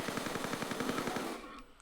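Rapid bursts of gunfire from Tomb Raider III aimed at raptors at a crash site, a steady rattling stream of about twenty close, even shots that stops abruptly, followed by a brief faint click.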